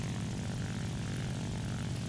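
Propeller plane engine in the War Thunder video game, early German aircraft, a continuous droning buzz held at even volume throughout.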